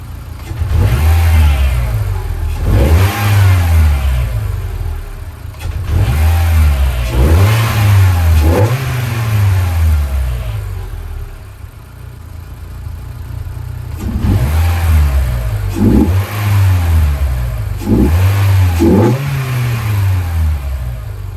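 A Renault Clio 197/200 fitted with a Sprogley STX induction kit revving repeatedly, each loud blip rising and falling in bursts with idle gaps between, heard close and without talk.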